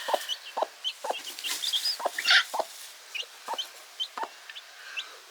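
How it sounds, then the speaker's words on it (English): Chickens near newly hatching chicks give a string of short, soft clucks and chirpy calls at uneven intervals, with a brief louder flurry midway, fairly close and without talk. "These guys are having little chicken challenges."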